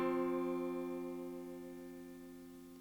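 A sustained dissonant fifth, the wolf interval of Pythagorean tuning, held as a single steady tone with beating overtones, fairly quiet and slowly fading over a few seconds with no voices.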